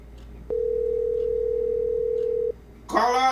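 A telephone tone sounds during an outgoing call-back on a Liberian radio broadcast: one steady two-second ring, clear and alone, followed by a brief burst of voice.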